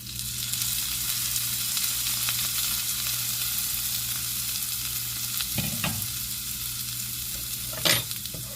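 Sausage and potatoes fry in a pan with a steady, dense sizzle throughout, close and fairly loud, with a few brief clatters of stirring or utensil contact near the end.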